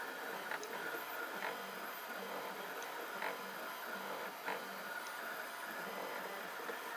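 A 3D printer prints a replacement filament feeder part, giving a steady faint mechanical whir with soft repeated ticks and small clicks throughout, with no talking.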